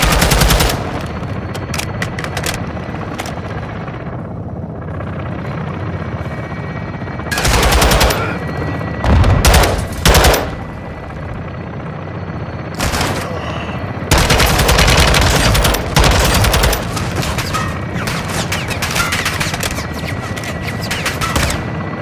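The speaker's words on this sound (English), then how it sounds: "Taking belt-fed fire from beneath the tower." Bursts of belt-fed machine gun fire in Call of Duty: Modern Warfare II, loud repeated volleys over a steady game ambience, with several long sustained strings of rapid shots.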